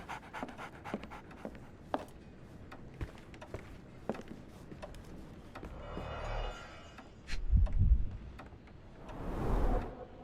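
A dog pants in the Sherlock Holmes The Awakened video game, with quiet, steady breathing that builds into two louder, close bursts of rapid panting near the end.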